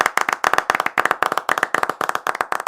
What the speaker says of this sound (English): So let's clap it up for our Brownies.